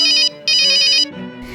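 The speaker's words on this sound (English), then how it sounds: "the phone on the desk above me suddenly rang" A desk telephone rings loudly and close by, two long electronic trills with a short gap between them, followed by quieter room sound.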